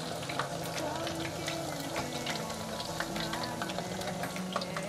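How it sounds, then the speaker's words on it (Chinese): Food deep-frying in hot oil, several pieces turned with chopsticks and left to cook until golden, giving a steady close sizzle and crackle with small pops throughout, with no one speaking. "3个都放好了，再继续让它炸。"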